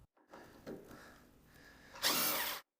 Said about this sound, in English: We'll use a power screwdriver to make things a bit quicker